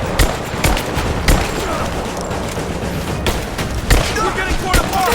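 Gunfire in the Rise of the Tomb Raider video game, sharp broadband shots cracking at irregular intervals over a dense, continuous battle din with speech-like chatter mixed in.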